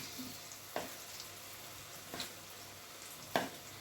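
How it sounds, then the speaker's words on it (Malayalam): Broccoli 65 frying in hot oil gives a steady, soft hiss, with a few faint pops and clicks in between. "കുറച്ച് നേരം ഒന്ന് ഫ്രൈ ആയതിനു ശേഷം മാത്രം ഇളക്കിയാൽ മതി."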